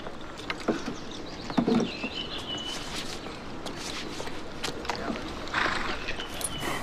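A horse's hooves clip-clopping in uneven footfalls over steady background noise, moderately close, with no clear speech.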